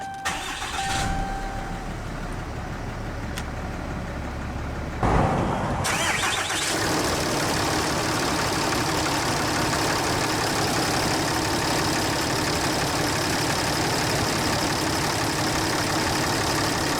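A 2012 Ram 3500 Laramie Mega Cab with a 6.7 Cummins diesel cranks briefly and fires up, then settles into a loud, steady, rumbling idle heard close by, with no talk.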